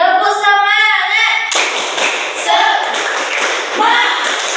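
Students in an Indonesian classroom perform the 'tepuk semangat' clapping chant: chanting voices open, then a burst of rhythmic group clapping mixed with shouted words carries on steadily and loudly to the end.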